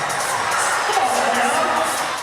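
Schoolchildren at New Standard Academy cheer and shout in celebration after winning a contest, a continuous excited roar of young voices with occasional whoops.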